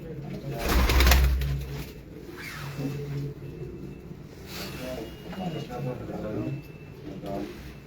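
Pigeons cooing on a rooftop loft in Multan, soft repeated low coos heard faintly under people talking, with a brief louder knock near the start.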